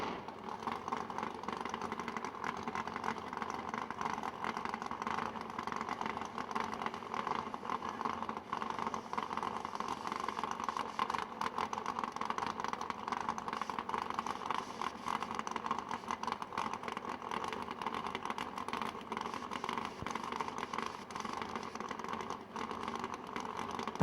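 A drag racing car engine on a radial-tire drag strip running steadily before the race, a constant mid-pitched drone with rattling texture, heard at a distance and fairly quiet.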